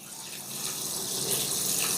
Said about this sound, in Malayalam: അപ്പോൾ നമുക്കിതാ വെള്ളം ഇതിലേക്ക് ഒഴിച്ച് കൊടുക്കാം